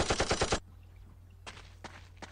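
Rapid machine gun fire from the video game Urban Chaos: a loud burst of five quick shots up front, then a low hum with a few scattered distant pops.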